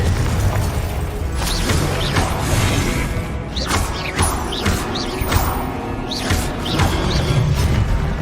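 Spells and explosions fill a Hogwarts Legacy battle: loud booms, crashes, whooshing casts and mechanical clanks follow one another in a busy, continuous stream of game effects.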